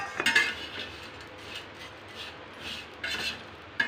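Thick flattened rice (poha) is dry-roasted in a pan, heard as light scraping and clinking of a utensil against the pan in a few short bursts, with no talking.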